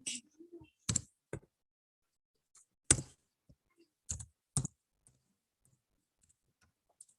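Sparse clicks of typing on a computer keyboard while entering text into a PowerPoint slide, short bursts of a few keystrokes separated by pauses, close and fairly quiet with no talking.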